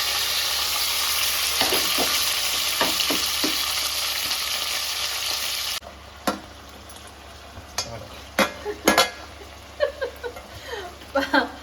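Onions, tomatoes and green chillies hit hot oil for sambar with a loud, dense hiss that cuts off abruptly, followed by quieter sizzling and a string of sharp stirring scrapes and clinks up close.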